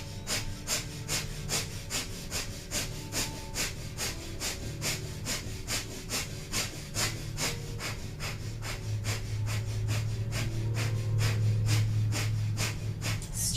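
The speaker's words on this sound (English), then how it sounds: "So powerful breath of fire, and we'll begin 30 seconds of stretch pose" Rapid rhythmic breath-of-fire yoga breathing, sharp nasal exhalations pulsing steadily about twice a second, close and sustained throughout, unaccompanied by talk.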